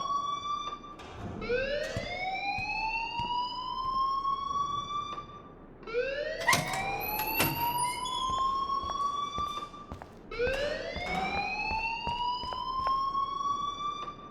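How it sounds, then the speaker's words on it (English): A rising, wailing siren-style alarm in the video game Life is Strange, sounding loud and continuous in three long sweeping cycles that climb in pitch and then hold, with no talking over it. "please turn off that alarm since that's your job"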